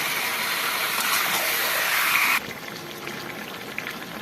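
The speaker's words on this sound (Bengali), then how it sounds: "ততক্ষণ আমি একটু হাই ফ্লেমে এটাকে রান্না করে নেব" Chicken frying in a pot over a high gas flame, a loud steady hissing sizzle that suddenly drops to a quieter sizzle partway through, close up, no voices.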